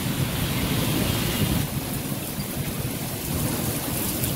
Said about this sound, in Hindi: जबरदस्त बारिश हो रही है।